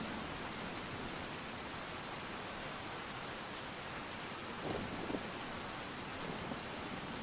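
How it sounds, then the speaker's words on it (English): Heavy rain in the video game Resident Evil 7, a steady dense hiss of downpour filling the scene at low volume with no talk over it. "how is my lighter still working in this, like, terrible rain?"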